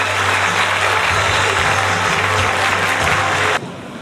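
Loud, dense applause from a large crowd at an award ceremony, steady and sustained, cutting off abruptly near the end.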